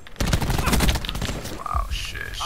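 Rapid bursts of SOG gunfire in a video game crackle in a dense, loud volley that fades into scattered shots and electronic game tones, with a voice shouting over it.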